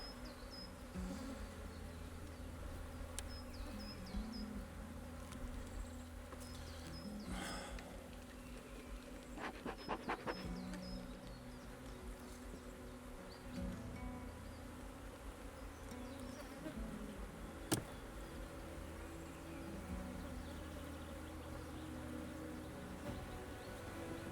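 Honey bees at an open hive during a spring hive check fill the air with a continuous, dense buzz of many insects, steady and close, with no talking.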